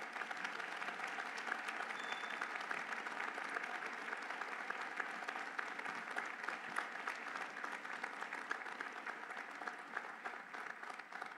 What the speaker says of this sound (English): Please join me with your heartfelt applause in warmly and proudly welcoming home the alumni from the 50th anniversary class.